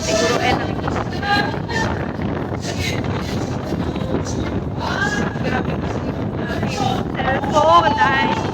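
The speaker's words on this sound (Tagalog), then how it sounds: "ang lakas ng hangin." Strong wind buffets the microphone outdoors near a park in Batangas, a steady loud rushing roar throughout, with people talking over it.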